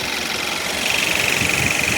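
A Hyundai i30 CW engine idles steadily at close range, a smooth continuous mechanical drone with a faint high whine rising partway through and no talking.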